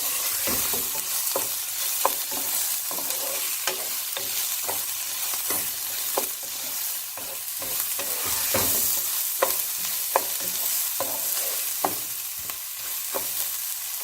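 Rice for Mexican rice stirred and fried in a pan on a stove at medium heat, a steady sizzle broken by repeated scraping strokes of the spoon, close and continuous with no talk.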